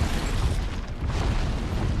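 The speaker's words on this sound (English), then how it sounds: "Oh, look, explosion." A deep explosion rumbles through a fight scene in the video game Horizon Zero Dawn, a steady heavy low boom that holds loud for the whole stretch with no talking over it.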